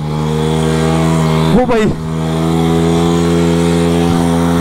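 Motorcycle engine revving steadily off-road in muddy ground, a strong droning hum held throughout with a brief dip and surge of revs partway, while someone shouts briefly over it.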